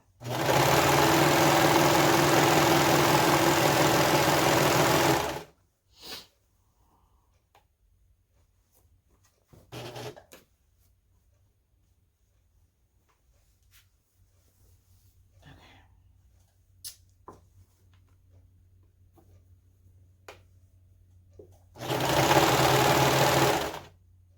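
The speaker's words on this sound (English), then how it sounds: "All right, serging this together." A serger sewing machine stitches fabric for a hooded scarf in a loud steady run of about five seconds, then falls quiet with faint handling noises, and a second short burst of stitching comes near the end.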